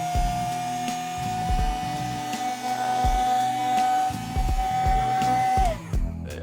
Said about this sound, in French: je vous propose cet aspirateur à main de chez Woodland Sonic